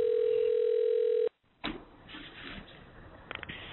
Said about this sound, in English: so let me give him a call